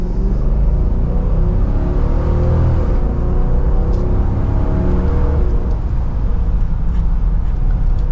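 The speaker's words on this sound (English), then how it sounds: "Definitely has a good V8 tone to it." A 2023 Dodge Durango R/T with a Hemi V8 accelerates hard from second gear. Its deep engine note rises and climbs through the revs over steady cabin rumble, loud and close, with no talking.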